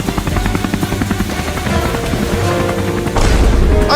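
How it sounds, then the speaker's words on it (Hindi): Helicopter rotor noise in a Hindi comedy sketch, a loud steady churning drone with rhythmic thumping that swells louder near the end, no talk over it. "मुझे भी हेलीकॉप्टर में बैठा लो"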